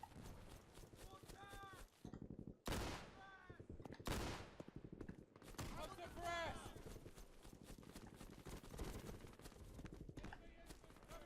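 Gunfire in the war game Easy Red 2, a chaotic mix of rapid shots, heavy bursts and louder nearby blasts, continuing throughout amid battle noise with voices calling out.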